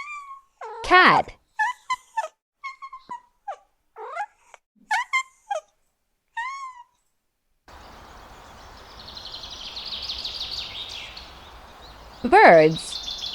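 Several birds chirp and sing in short, bright separate calls, followed by a steadier outdoor chorus of insects or distant birds with one more sharp close call near the end.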